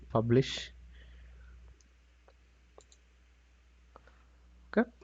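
Computer mouse clicks near the microphone, a few sharp isolated clicks spread over several seconds, with a brief burst of speech at the start.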